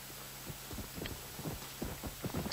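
A horse in Red Dead Redemption: Undead Nightmare clip-clops along at a steady walking pace. The hoofbeats are fairly faint and close, with a low hum underneath.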